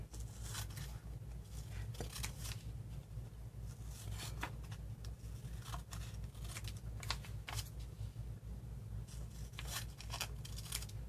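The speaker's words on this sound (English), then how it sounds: "I'm just going to cut it away from the main sheet so I can. Okay, so let's just cut our square out." Scissors snip through a paper calendar sheet to cut out a square, a steady run of crisp close cuts and paper rustles over a low background hum.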